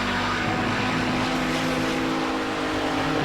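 An Audi 90 GTO race car engine at full throttle on the Road America circuit, a loud, sustained droning roar heard from inside the car, steady and unbroken.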